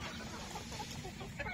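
Free-range desi chickens cluck softly in open farmland, a low steady background of scattered hen calls with a brief louder burst near the end.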